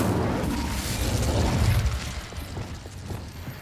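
Incendio fire spell cast in Hogwarts Legacy: a loud, close burst that pops and crackles, then slowly fades into a rumbling, fizzing tail with no voices.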